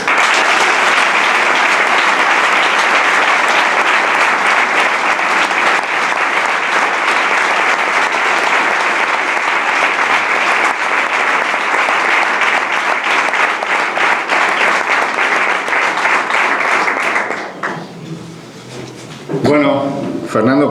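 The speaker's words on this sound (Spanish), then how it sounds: "una ovación por ello" An audience at a bullfighting event gives a sustained ovation. Loud, dense clapping continues for about seventeen seconds, then fades and gives way to someone talking.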